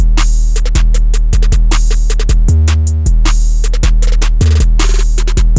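A hard hip hop beat built in FL Studio for a track, with heavy booming bass hits, punchy kicks and layered snares bouncing in a loud, busy pattern.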